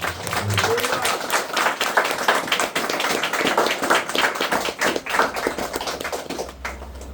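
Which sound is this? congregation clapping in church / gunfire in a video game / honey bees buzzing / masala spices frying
congregation clapping in church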